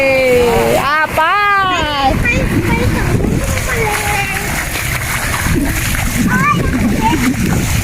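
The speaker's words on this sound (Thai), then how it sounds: "น้ำกระเด็นเลย" Floodwater surges and splashes over a spillway at an irrigation dam in Pattani, Thailand, giving a continuous loud rush with bursts of spray while voices talk nearby.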